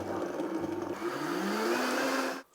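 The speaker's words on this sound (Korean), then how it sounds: "냉동 수박과 생 수박을 3대 7 비율로 블렌더에 넣어주세요. 그리고 그대로 갈면 됩니다." Frozen and fresh watermelon chunks in a roughly three-to-seven mix churn in a blender: a steady, close motor whir whose pitch climbs as the fruit breaks down, then cuts off abruptly.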